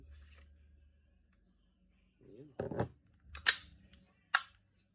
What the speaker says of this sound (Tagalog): VG17 Gen 4 firing